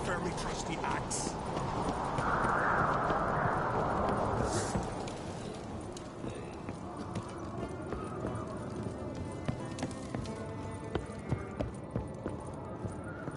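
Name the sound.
horse hooves clip-clopping in video game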